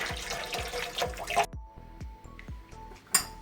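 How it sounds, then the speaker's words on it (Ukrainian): Warm tap water rinses sausage casings during homemade sausage making, a steady close splashing rush for about a second and a half that breaks into irregular drips and small splashes, with no talking. "Включаємо воду і дивимося, чи нема дирок. І заодно промиваємо тепленькою водою."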